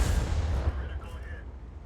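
A video-game artillery gun fires a round as enemies close in: a loud, deep low boom at the start that decays over about a second into a fading rumble, heard on its own.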